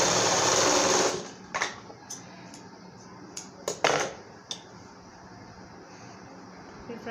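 A sewing machine runs fast and steady for about a second while stitching a designer blouse, then stops, leaving soft clicks, fabric handling and faint background noise.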